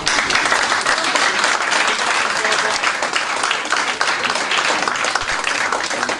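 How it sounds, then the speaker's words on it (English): Dense, sustained applause from an audience at a London wellness day event, loud and even across the whole stretch, with crowd voices mixed in beneath the clapping. "A round of applause."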